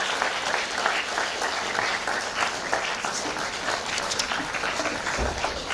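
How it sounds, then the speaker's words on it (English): A crowd at a music and book launch event gives sustained, even applause, a steady wash of many hands clapping at moderate distance throughout. "let's welcome her with a big, big round of applause"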